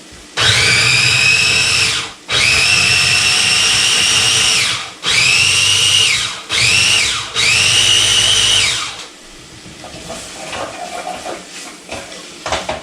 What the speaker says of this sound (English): We're going to take all of those and just puree them for a second.